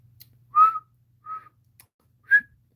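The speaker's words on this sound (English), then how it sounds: "I have to work on my whistle." A person whistles three short, clear notes with gaps between them, the first and last louder and the middle one softer, close and alone against near silence.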